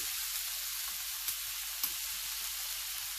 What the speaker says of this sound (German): Und dann brate ich noch weiter, noch eine Minute.